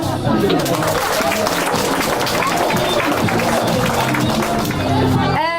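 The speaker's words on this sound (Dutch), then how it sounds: "Applaus!" Audience at a school book-week fashion show in Oostburg claps and cheers continuously for a walker on the runway, a dense steady wash of applause mixed with crowd chatter.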